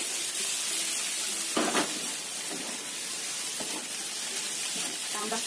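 Eggplant stir-fried with garlic in a pan sizzles steadily up close, with a constant hiss and occasional scraping stirs of a spatula.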